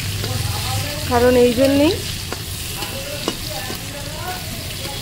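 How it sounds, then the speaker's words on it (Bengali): Chopped onions frying in hot oil in a pan, a continuous close sizzle with spoon stirring and a couple of clicks, while a person speaks briefly over it. "এরপর আমি দিয়ে দেবো ওই তেলেতে পেঁয়াজ কুচি"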